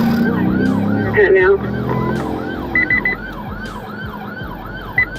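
A police car siren wails in steady repeating sweeps during a high-speed highway pursuit, loud and close throughout, with engine and road noise underneath and brief radio chatter and a short spoken phrase over it.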